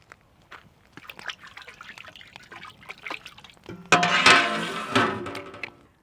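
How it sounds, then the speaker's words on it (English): Cooking oil poured into a pan while making tomato fried rice, heard as a short liquid splash and sizzle that starts partway through and stays fairly loud, after quieter clinks and drips. "I'm adding some oil."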